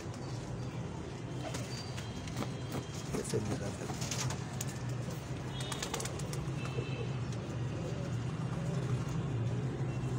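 Dubai Johnson pigeons coo softly in the background under a steady low hum and traffic-like noise, with occasional faint voices nearby.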